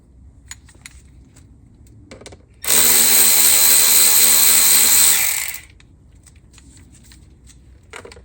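A power tool spins a 10mm socket to remove a clamp on a Lexus IS300 2JZ-GE engine, giving one loud, steady, close whirring burst of about three seconds between quieter handling clicks.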